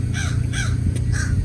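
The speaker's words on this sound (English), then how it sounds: "and you can feed the birds" Crows caw repeatedly by a lake where birds are being fed, several loud calls spaced through a steady outdoor background.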